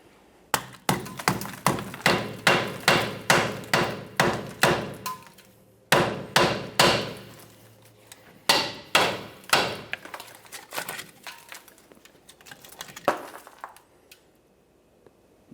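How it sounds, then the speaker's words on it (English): Rapid series of sharp metallic hammer taps on a rusted brake backing plate of a 1999-2006 Chevrolet Silverado 1500, close and loud, in quick bursts with short pauses, then a few scattered knocks trailing off. "you could lightly tap it with a hammer or even pry it out of place"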